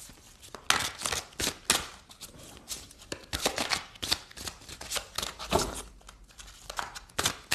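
Oracle cards are shuffled by hand in quick irregular bursts of crisp riffling and slapping, close and fairly quiet, with brief pauses between the flurries.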